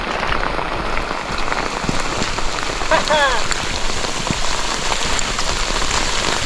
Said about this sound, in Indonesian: cuman diguyur hujan deras banget, lihat tuh